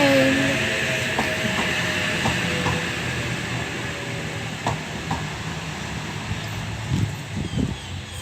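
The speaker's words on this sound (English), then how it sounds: "Oscar train is now departing" A Sydney Trains H-set (Oscar) passenger train departs Coniston station, with a steady low rumble of traction and wheels, a few faint clunks and clacks, and louder thumps building near the end, with no talk heard.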